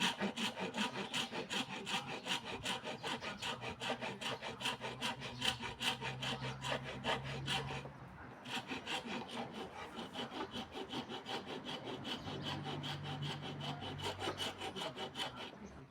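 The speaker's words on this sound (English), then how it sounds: "I clean up the cut with a rasp." Rasp filing a freshly sawn cut in wood for a tripod head, steady rapid back-and-forth rasping strokes close up, continuous and evenly rhythmic with a brief pause midway, no talk.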